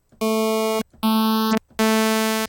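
Three sustained buzzy synth tones, each about half a second long, run through a phaser effect, with a sweeping hollow notch shifting through the upper harmonics.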